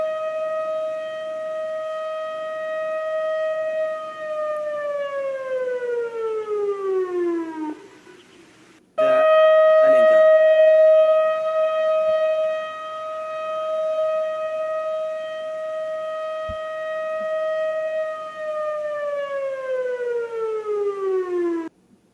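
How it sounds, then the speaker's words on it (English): A loud air raid warning siren wails steadily during a test, then its pitch slides down, cuts briefly, and rises again into a long sustained tone before falling once more. "emergency warning sirens for air raids and various types of emergencies"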